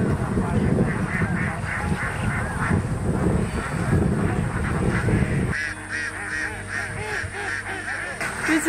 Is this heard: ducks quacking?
yes